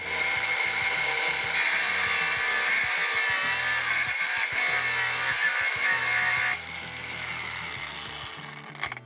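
A regular angle grinder held at a 45-degree angle grinds steadily into a workpiece. The loud, continuous whine has a small dip in intensity toward the end, with no voices over it.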